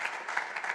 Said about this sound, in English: applauding.